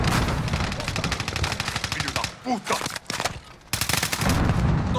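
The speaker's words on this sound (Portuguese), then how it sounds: "Tô tomando tiro!" Rapid automatic gunfire in the video game Call of Duty: Modern Warfare crackles in dense bursts, with a brief lull, while a player shouts over it.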